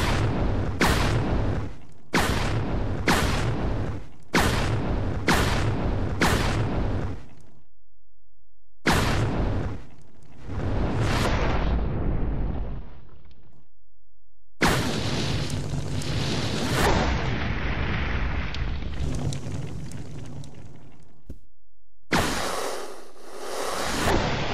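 A weapon in the Resident Evil Zero HD Remaster fires different round types, first a rapid run of sharp booming shots, then slower heavier blasts and whooshing bursts separated by short silences, loud and close.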